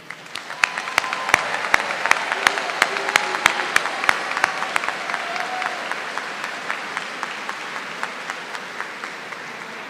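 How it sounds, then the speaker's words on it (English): A commencement ceremony audience applauds PhD graduates with a full, close burst of clapping and sharp individual claps, slowly thinning and fading toward the end. "Let's have a round of applause for all of our PhD graduates."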